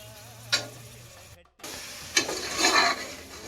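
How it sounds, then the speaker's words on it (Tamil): A spoon stirs mutton biryani masala with cooked meat in a pot, giving close, sizzling scrapes and rubbing strokes in short bursts with a brief pause between them. "நல்லா எல்லா பக்கமும் மிக்ஸ் ஆகிற நல்லா மிக்ஸ் ஆகிற மாரி"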